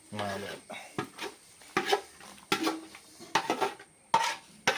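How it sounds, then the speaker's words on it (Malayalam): Masala being mixed into buffalo leg in a cooking pot, with repeated close scraping and clanking strokes of a utensil against the pot in an irregular rhythm, under short bits of voice. "ആ മസാല നമുക്ക് ഇതിനകത്തോട്ടിട്ട് മിക്സ് ചെയ്യാം"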